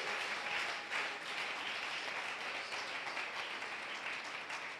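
A church congregation claps together for the Lord during a worship service, a soft, distant, sustained wash of many hands with a gently pulsing rhythm.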